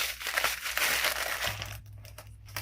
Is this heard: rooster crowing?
no